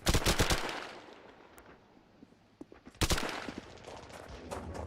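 Machine gun fire in the WWII Online combat game: a loud rattling burst at the start, a quieter stretch with scattered distant shots, then another sharp, heavy burst of automatic fire.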